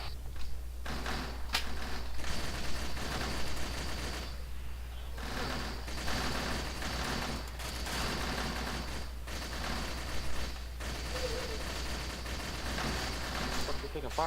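Gunfire crackles in a video game ambush, bursts of shots and rapid volleys repeating over a constant low hum, fairly distant and mid-level, with a voice calling out briefly amid the firing.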